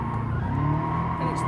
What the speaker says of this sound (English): Just kind of some low power drifting.